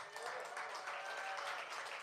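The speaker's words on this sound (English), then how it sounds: "give her a round of applause" Audience at a live showcase at World Cafe Live claps for a young performer, a faint, even patter of many hands heard from a distance with a faint murmur beneath.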